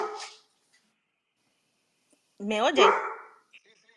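A small dog barks briefly and near at a call's opening, a short burst of yips heard after a person speaks, then a few faint sounds trail off.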